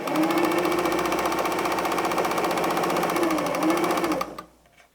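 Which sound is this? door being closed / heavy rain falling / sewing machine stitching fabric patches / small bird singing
sewing machine stitching fabric patches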